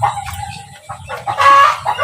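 Four-day-old turkey and chicken chicks and ducklings peep in a group nearby, giving loud, high, overlapping chirps with a low, dense hum of the flock beneath them and no voices.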